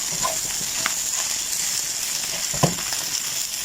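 Leftover chicken stir-frying in a pan gives a steady close sizzle with a few brief scrapes and knocks of the spatula, and no talking.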